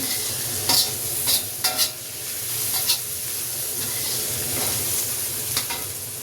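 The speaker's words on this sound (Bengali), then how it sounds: "তারপর আমি আরেকটু এটাকে ভেজে নিচ্ছি।" Thinly sliced boiled chicken frying in a pan for a noodle dish, a steady close sizzle with several brief scraping stirs of a utensil against the pan.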